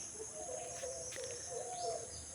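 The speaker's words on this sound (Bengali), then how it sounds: "ওই যে কোথাও একটা, আমরা ওকে বউ কথা কও বলি" An Indian cuckoo (bou-kotha-kao) calls from a tree branch in a morning countryside setting, its repeated whistled phrase faint and distant over a steady hiss of insects.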